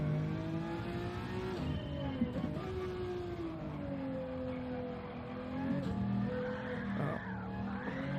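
Gran Turismo 7 race car, a Pagani Zonda on a time trial, oversteering and skidding, with a sustained engine drone and tire squeal swelling and easing over several seconds, loud and continuous with no talk.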